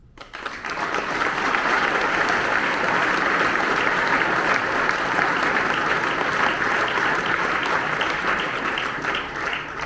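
A large audience applauds steadily at an official reception honouring educators and sports clubs engaged in job-placement work; the dense clapping is sustained and loud from start to finish, fading slightly at the very end.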